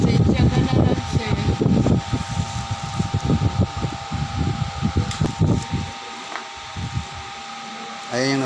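A new electric fan bought for 1,050 pesos at a market in Lucena City, its steady whirring hum running continuously beneath nearby chatter, with the background quieting toward the end.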